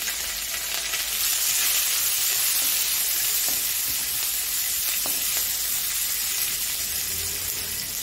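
Cumin seeds, onion and green and red chilies fry in mustard oil, giving a constant, close, bright sizzle with occasional faint pops and stirring.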